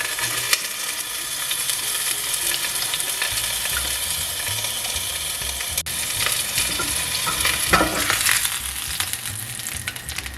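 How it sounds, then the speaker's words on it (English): Pork chop fat crisps in a covered pan, a loud, steady close sizzle and spatter running throughout with brief shifts in intensity and no talking. "I like to crisp up the fat as well. So I'm melting with the lid to hold in it."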